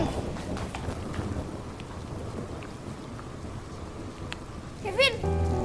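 Steady rain pours down in a continuous hiss with low rumbling underneath, suggesting distant thunder, and a brief sharper sound near the end.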